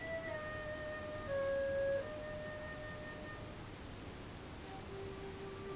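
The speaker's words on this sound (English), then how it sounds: "I don't know if you can hear the flute in the background." Faint sustained flute tones drift in from a distance, steady held notes with a slight pitch change, over a constant low background hum.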